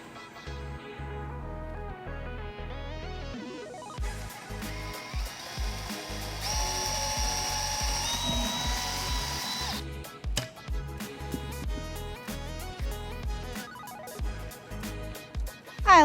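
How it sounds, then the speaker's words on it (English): Power drill boring a hole for a bromeliad stem in a dart frog enclosure, a motor whine rising and holding in the middle among intermittent clicks and tonal background sounds, with no voices. "I'm just going to simply drill a hole and then stick the stem right through it."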